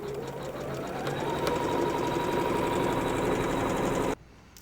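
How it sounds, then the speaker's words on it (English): An embroidery machine stitches a placement line for a butterfly tool pouch, a steady rapid mechanical whir that runs unbroken for about four seconds, then stops abruptly, leaving faint room quiet. "I'm simply going to go ahead and sew step number 1, and that's going to do a placement line"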